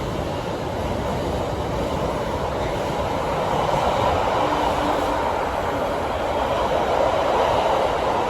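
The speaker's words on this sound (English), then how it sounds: "Oh, it's a freight!" A Class 66 freight train rumbles steadily through a station at night, a loud continuous roll of wagons that swells slightly toward the end, with no talk over it.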